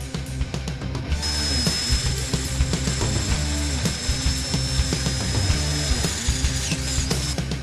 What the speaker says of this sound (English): Next, drill out the hole to the proper size.